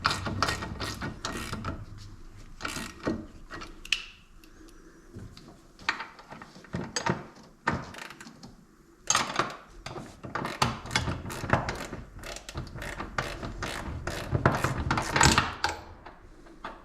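A ratchet tightens a 19mm nut and bolt on a Jeep XJ, with rapid bursts of clicking pawl strokes broken by short pauses and scattered metallic clunks, close and fairly quiet.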